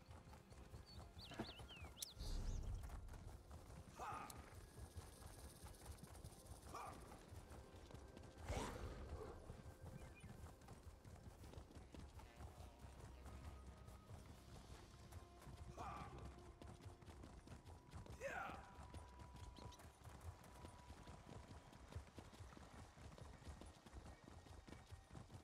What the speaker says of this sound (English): Hop on our mount. Not really gonna call it a horse.